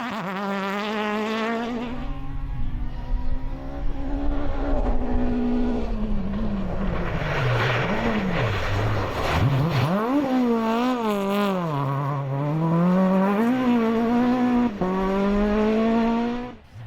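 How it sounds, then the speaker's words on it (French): Off-road rally car with a Porsche engine racing flat out on a very fast dunes and marsh course, its engine loud and close, revving up and down through gear changes with a buzzing, whining tone, no talk. "Christophe Garcia et Jacques Angevin qui ont fait respirer leur moteur Porsche sur ce tracé extrêmement rapide"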